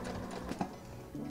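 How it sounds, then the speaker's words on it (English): A sewing machine runs steadily, stitching thrifted sweater fabric sewn right sides together near a twist, with a continuous close whir and a brief bump midway. "I'm just gonna put them right sides together and sew them shut as close to the twist as possible."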